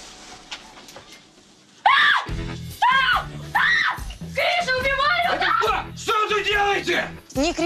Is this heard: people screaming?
yes